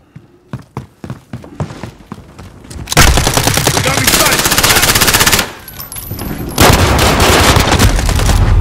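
Rapid automatic gunfire in a Call of Duty Modern Warfare firefight with the Bengal weapon: scattered loud single shots, then long sustained bursts, a short pause and another burst, with faint radio chatter under it.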